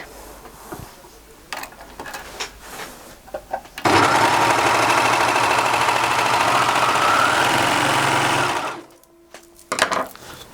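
A Babylock Imagine serger stitches polyester fabric, a fast dense mechanical whirr running steadily for about five seconds before stopping abruptly, with quieter handling sounds before and after.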